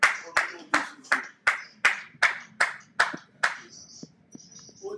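Congregation at a prayer service clapping in unison, about ten sharp, evenly spaced claps that fade out near the end, with a voice speaking faintly underneath.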